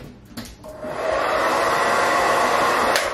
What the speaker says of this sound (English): with my futuristic blow dryer that has 2 settings, I like to use it on the medium one